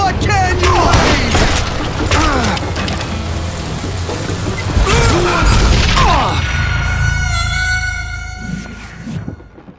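Dynamite explosions in the game Call of Juarez Gunslinger, heavy crashing blasts and debris amid gunfire and shouting, loud and continuous, with a ringing tone as the blasts fade.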